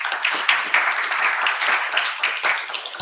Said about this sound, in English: So round of applause for everyone again.